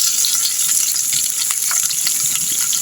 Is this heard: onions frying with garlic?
yes